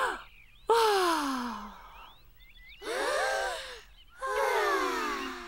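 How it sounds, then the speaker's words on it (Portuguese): Cartoon children breathing in deeply at a campsite: three long, loud inhalations in a row, each a rising rush of breath with voiced, sighing tones, separated by brief quiet pauses. "Respirem bem fundo este ar tão puro,"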